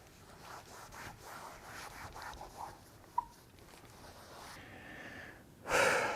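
A fingernail rubs at a small scuff in a car's paint, making faint, scratchy friction strokes with a sharp tick partway through and a louder rustle near the end.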